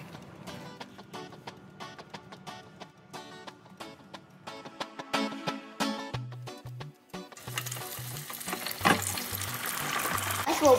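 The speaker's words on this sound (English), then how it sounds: "That's what we call frying." Fish sizzles and crackles in hot fish oil, a steady dense frying hiss with sharp pops and spatters that grows louder and busier in the second half.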